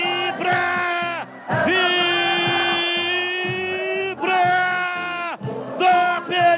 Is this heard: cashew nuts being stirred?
no